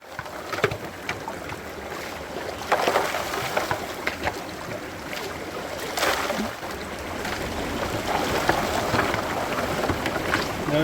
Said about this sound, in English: So we're just going to pump the overburden in for a bit.